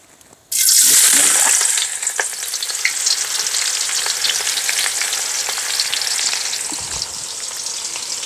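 Onions dropped into a hot pan for a duck dish burst into a loud sizzle after a quiet start, then keep up a dense, steady crackling frying hiss close by, with no talking.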